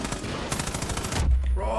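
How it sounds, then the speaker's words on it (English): Rocket launcher firing in Far Cry 5, heard as a loud, dense rattling barrage of shots lasting about a second, then a deep rumbling blast with a lingering low roar. "that's a rocket launcher"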